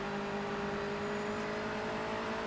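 A Mazda MX-5 race car in Project Motor Racing drones at steady revs, with a continuous engine tone and no clear gear shifts, heard from a distance.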